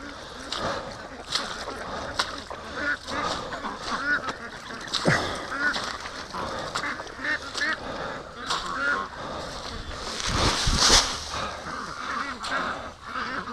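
Ducks in a muddy, wet barn give a busy, overlapping chorus of quacks and honking calls, with occasional splashing and a person talking among them.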